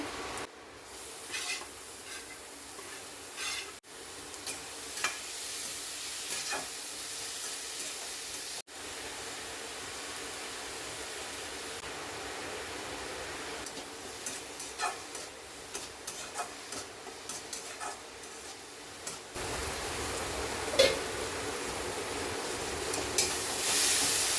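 Chopped garlic, ginger and green chili frying in hot oil for a squid roast, giving a soft steady sizzle with scattered small ticks and pops, close and moderate in level, with no talking.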